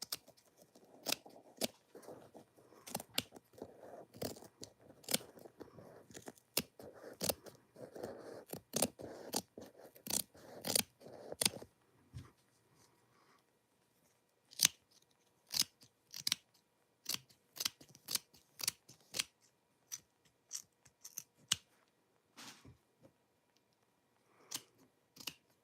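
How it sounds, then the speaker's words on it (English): Scissors snip through material close to the mic, a dense run of crisp cuts for about twelve seconds, then sparser separate clicks and snips with gaps of near silence. "Come now, scissors, do your job."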